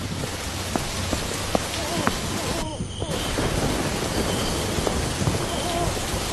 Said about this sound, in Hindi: कुछ समय बाद बारिश बहुत तेज हो गई। आसमान में जोर जोर से बिजली कड़कने लगी।